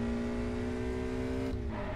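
Ferrari engine in the driving game Test Drive, a loud sustained tonal whine that holds steady, then drops in pitch as the car shifts or slows, with a rumbling undertone.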